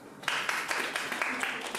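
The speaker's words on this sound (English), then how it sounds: "Let's give a round of applause." A small group gives a weak, thin round of applause, scattered hand claps at moderate volume lasting under two seconds.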